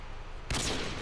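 Sharp gunfire burst from the Modern Warfare 2 video game during a 1v1 quickscoping match, a sudden loud crack after half a second of quiet that rings on with echoing tail to the end.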